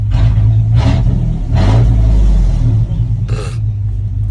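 An idling car engine rumbles up close, briefly revved three times in quick blips that rise and fall back to idle.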